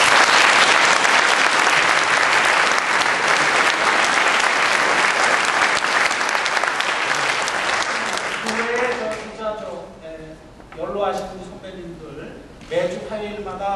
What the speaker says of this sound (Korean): 박수 한번 하시기 바랍니다.